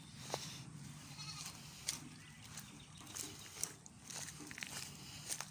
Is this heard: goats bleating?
yes